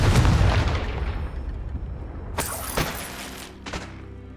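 A fiery blasting spell explodes in a Harry Potter-style video game, a heavy booming blast with a rumbling decay, followed by two sharper crackling bursts with shattering debris.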